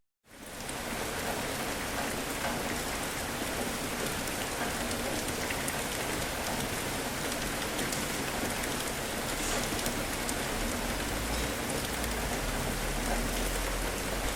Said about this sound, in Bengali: যেতে যেতে হঠাৎ বৃষ্টি শুরু হলো।